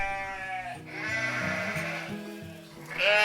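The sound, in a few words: sheep bleating sound effect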